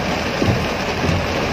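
Steady rain falls throughout, a dense even hiss with a faint low rumble beneath, close and continuous with no voices.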